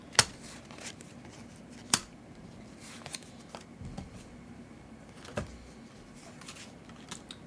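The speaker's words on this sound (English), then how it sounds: "We'll go ahead and shuffle them." Resource cards for the board game Scholars of the South Tigris are shuffled by hand, close-up papery riffles and sharp snaps at irregular intervals, quiet between bursts.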